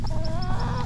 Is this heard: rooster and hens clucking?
yes